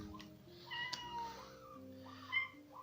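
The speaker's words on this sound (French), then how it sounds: "il y a mon chat qui miaule derrière" A cat meows repeatedly behind the person speaking, its drawn-out, whiny calls rising and falling at moderate volume in a quiet room.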